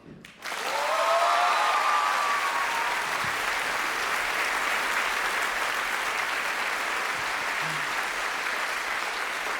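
Concert audience at a stand-up show in Paris breaking into loud, sustained applause for the drummer, a dense steady wall of clapping that holds for the full stretch with brief whoops near the start.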